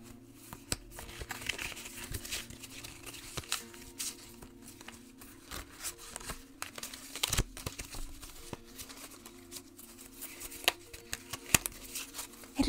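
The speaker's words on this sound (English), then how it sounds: "I must ask you to shuffle the deck." Deck of tarot cards being shuffled up close, a steady soft riffling and crinkling patter that runs throughout with no talking.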